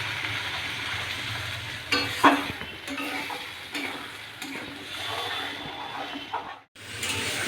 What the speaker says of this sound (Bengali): এবার মশলাটা দিয়েও আমি ভালো করে কষিয়ে নেব।